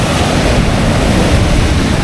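Large sea waves surge in at dawn and flood seaside houses, heard as a continuous, loud roar of rushing surf and water with no voices.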